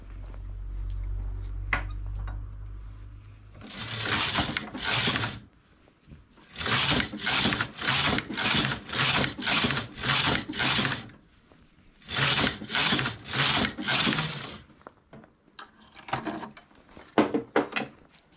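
A knitting machine carriage rattles back and forth over rows of a decorative knitted flower, in loud rhythmic bursts of repeated sliding clacks separated by short pauses, with faint handling sounds at the start and end.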